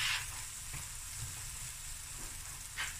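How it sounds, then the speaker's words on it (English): Seafood mix with mussels goes into a hot pot for Cape Malay seafood ahkni, giving a steady close sizzle with brief splashy bursts at the start and near the end. "So I'm going to add my seafood now."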